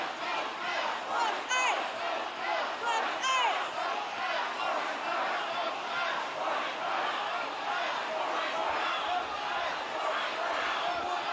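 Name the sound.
people cheering for protesters in the street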